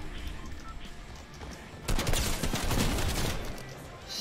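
Burst of rapid automatic gunfire in a battle-royale style video game, a loud sharp volley starting midway and continuing in quick repeated shots after a quieter stretch.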